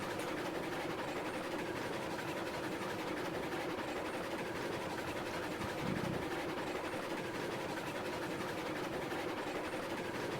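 Shay steam locomotive from the game Railroads Online chugging along slowly, a steady rumbling rail and engine noise with clatter that stays constant throughout, fairly distant and even.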